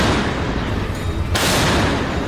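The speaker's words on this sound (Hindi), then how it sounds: "रूस के ठिकानों से आग के गोले बरसाती ये है जर्मनी की सबसे भरोसेमंद आर्टिलरी।" A German PzH 2000 self-propelled howitzer fires near Bakhmut, a dense, continuous roar of heavy artillery blasts filling the scene loud and near, with no talk over it.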